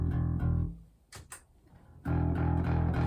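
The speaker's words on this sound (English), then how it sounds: "That's the sound of this bass with a little bit of like a turbo rat style sound from the JHS Packrat." Bass guitar run through a JHS Packrat distortion pedal set to a turbo rat style, playing thick, fuzzy sustained notes that drop out briefly for a gap before the gritty tone returns, loud and close.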